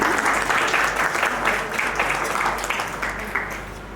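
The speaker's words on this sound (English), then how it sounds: "Can we please have a round of applause for Arushi?" A crowd at a children's Guru Purnima performance applauds steadily, a dense wash of clapping that holds for several seconds at a fairly loud level before easing slightly.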